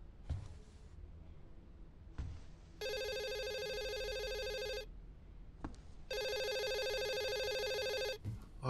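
A telephone rings in the video game Hazing Night Shift, two long, loud bell-like rings separated by a pause, with faint clicks and thuds between them.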